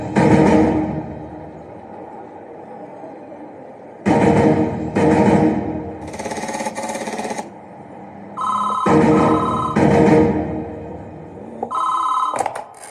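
A telephone rings repeatedly in a South Indian action movie scene, with loud bursts of ringing separated by short gaps and a distinct higher tone as the call goes through.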